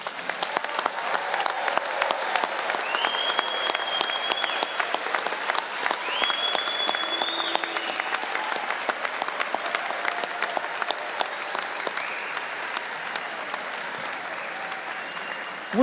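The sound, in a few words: audience applause for graduates at commencement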